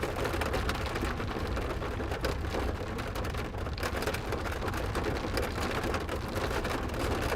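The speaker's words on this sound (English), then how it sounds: "Our heavy rain is hitting right now." Heavy rain pours down during a storm chase in Iowa, a loud, continuous hiss of drops drumming on surfaces close by, steady throughout with no voices.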